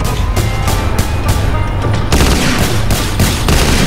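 Police gunfire rattles in dense, rapid bursts aimed at a car, loud and continuous with overlapping shots and booms throughout.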